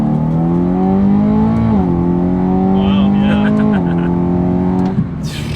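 A supercharged S65 V8 in a BMW M3 pulls hard from inside the cabin, its pitch climbing in steps through gear changes before easing off near the end, with brief passenger voices over the loud, steady roar.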